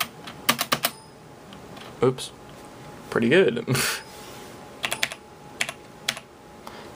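Someone types on a Cherry computer keyboard in bursts of quick, crisp key clicks with short pauses between, while a person talks briefly over the tapping.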